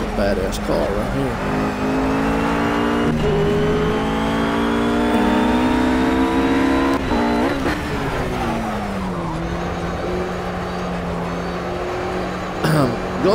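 Race car engine revving in Project Cars, loud and close with rising and falling pitch sweeps as it accelerates and shifts, a person talking over it in places.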